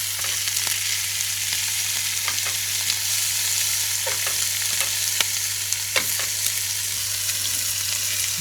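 Steaks sizzle and fry in a pan with a steady, close hiss, broken by scattered pops and crackles and a low constant hum underneath.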